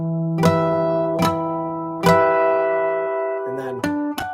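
Clear, bell-like acoustic guitar harmonics outline a chord progression, ringing out one after another, each sustaining and overlapping, with a quick cluster of plucked notes at the end.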